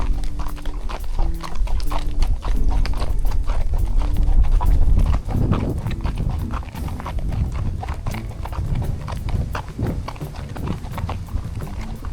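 Horse named Emery walking along a windy trail ride, hooves clip-clopping in a steady rhythm close by, mixed with wind noise and rustling.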